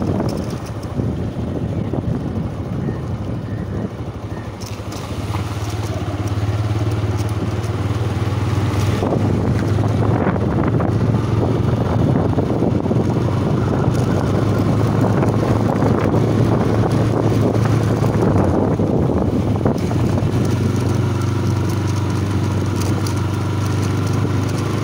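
A motorbike ride along a riverside road near Kolkata, with a steady engine drone under heavy wind buffeting on the microphone throughout.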